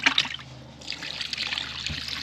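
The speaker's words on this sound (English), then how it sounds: "Let's go ahead and dump out the water." Water is poured out of a fishing bucket with bluegills in it, a splashing trickle and gush of liquid that runs steadily, fairly close, with a small splash near the end.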